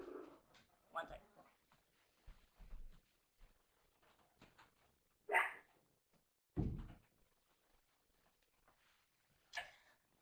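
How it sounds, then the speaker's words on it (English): A dog indoors barks in short, sharp bursts at a snow plow passing after an ice storm, with scattered low thumps and rumbles between the barks. "plow going by is making a lot of noise, and the dog wants to bark at it"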